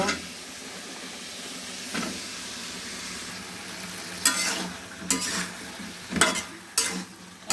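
Fish curry with taro and eggplant sautéing in a pan, a continuous soft sizzle with several louder scraping stirs near the end.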